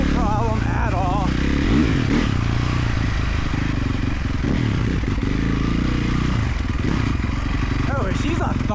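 EFI 450 single-cylinder dirt bike engine thumps steadily nearby, a loud continuous low pulsing beat, with people talking over it throughout.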